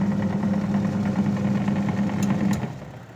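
A washing machine dynamo motor runs on test, a steady low hum with a buzzing drone that holds evenly and then fades out near the end.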